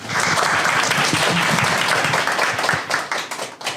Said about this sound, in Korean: 앞으로 나오실 때 우리 환영의 의미로 박수로 맞이하겠습니다